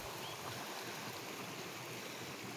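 A mountain stream rushes along a channel beside an old watermill in Asturias, a steady, close, broadband flow of water with no breaks and no voices.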